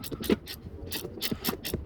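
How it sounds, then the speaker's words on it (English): A small Craftsman adjustable wrench ratchets on a bolt while a reverse light is being fitted to a vehicle, giving quick, close, uneven clicks in two short bursts. "Just a nice little Craftsman wrench with the adjustable end on it."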